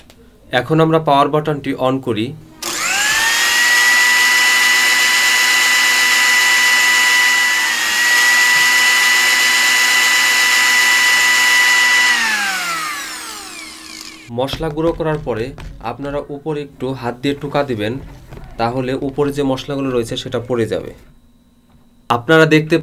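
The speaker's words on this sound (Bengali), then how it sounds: "আমরা মশলাটি ঢেলে আপনাদের সামনে গুঁড়ো করব" Nima electric spice grinder with a strong blade grinding spices, a loud steady motor whine for about twelve seconds that winds down at the end, with talk before and after.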